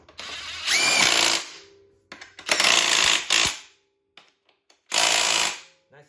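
DeWalt 12-volt stubby impact driver with a 17 mm socket tightening nerf bar bolts, several loud rattling hammering bursts separated by short pauses and small clicks, up close.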